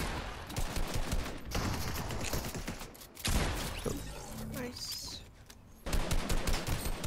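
Weapons fire in the Fortnite video game comes in dense, rapid bursts of shots. Volleys are broken by a short lull and then resume loudly.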